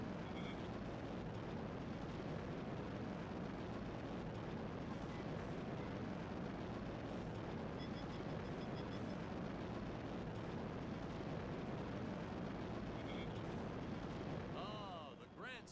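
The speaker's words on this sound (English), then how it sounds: "This is a really slow rocket." A slow-moving rocket in the video game Deadly Tower of Monsters roars with a dense, continuous rumbling blast that holds steady and loud throughout, thinning out only at the very end.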